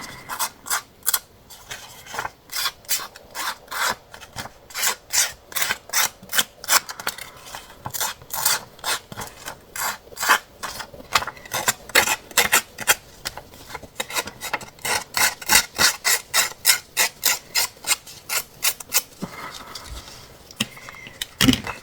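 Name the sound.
scraping paper while making a vintage scrapbooking card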